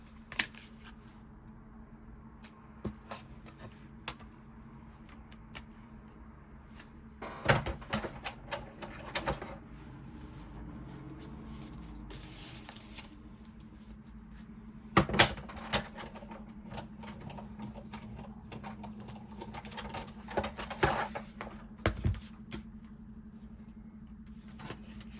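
An embossing folder fed through a die-cutting embossing machine gives faint, quiet mechanical creaks and soft grinding clunks over a low steady hum, with a few louder bumps spaced apart.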